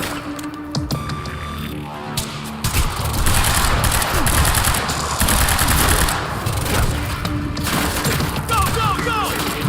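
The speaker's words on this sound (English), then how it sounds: "and the weapon sounds which are normal" Quantum Break gunfire rattles in rapid volleys, with sustained bursts of shots and impacts layered over a low throbbing hum, loud and close, and faint voices in the background.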